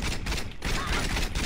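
Rapid shotgun fire in the Saints Row video game, a dense, continuous barrage of loud blasts running through the whole short stretch with only a brief dip in the middle.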